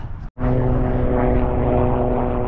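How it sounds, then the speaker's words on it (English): A helicopter flies overhead in snowy mountains near Switzerland, its steady loud rotor and engine drone continuous after a brief cut at the start, with no talk. "Another helicopter."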